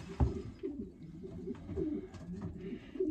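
Racing pigeons being basketed coo in low, soft, continuous murmurs, with faint clatters and shuffling close by.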